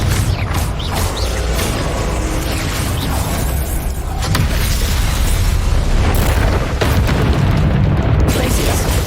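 Confringo fire-blast spells burst in Hogwarts Legacy, loud booming explosions layered over rumbling, crackling combat noise that stays dense and continuous throughout, with a fresh blast hitting about midway.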